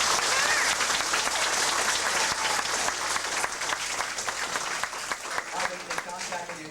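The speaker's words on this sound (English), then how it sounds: "a big round of applause" Strong crowd applause at a school awards ceremony for students, dense clapping sustained throughout and thinning slightly toward the end, with some voices mixed in.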